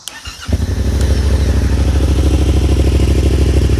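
A Yamaha MT-07 motorcycle engine with a dB killer installed in the exhaust starts up and settles into a loud, steady, throbbing idle close by, with a deep rhythmic exhaust pulse.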